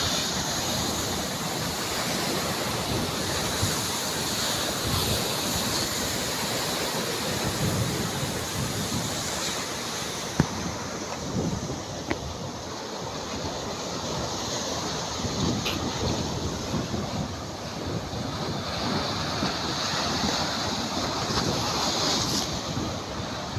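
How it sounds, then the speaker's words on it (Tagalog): Typhoon-driven ocean waves pound the shore in a constant heavy wash for a long stretch, mixed with wind rushing against the microphone and no voices. "marami na kasang alon."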